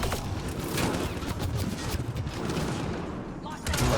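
Dense, continuous gunfire from a Mass Effect: Andromeda firefight with a mech, a steady loud barrage of shots with game noise and a voice talking over it, swelling again at the end.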